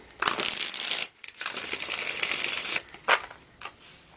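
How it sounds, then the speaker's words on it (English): A deck of tarot cards is shuffled up close, giving a long papery riffle broken by a short pause and ending in one more quick burst, with no talking. "One more shuffle."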